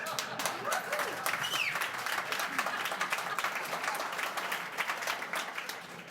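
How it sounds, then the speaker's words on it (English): Audience applause and cheering at a city subcommittee meeting on Ontario Place, dense sustained clapping from a crowd filling the room, fairly close and continuous, tapering slightly at the end. "It's the loudest cheer yet, Benj."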